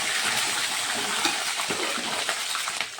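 Bay leaves go into grated coconut frying in hot oil, raising a steady, close, fairly loud crackling sizzle with small pops and faint scrapes, no talking.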